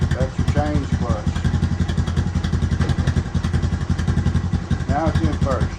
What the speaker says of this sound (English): Now I'm going to put it in first gear